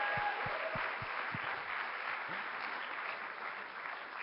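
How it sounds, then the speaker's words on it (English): An audience at an Ignite presentation night applauds, a broad wash of many hands clapping that starts loud and slowly fades over a few seconds, with some heavier individual claps near the start. "Let's give another quick round of applause for the first 7 folks."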